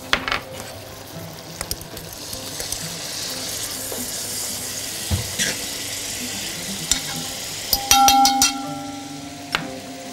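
Garlic sautéing in melted butter in a pan for a lemon butter pasta sauce, a steady close sizzle with scraping stir clicks and a few sharper utensil taps near the end, no talking.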